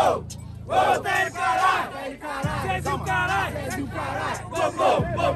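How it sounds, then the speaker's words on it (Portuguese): Rap battle crowd at Batalha da Zil bursting into loud collective shouting and chanting, with a steady bass beat running beneath and the roar rising and falling in waves. "Se tá faltando gasolina, é só a plateia gritar"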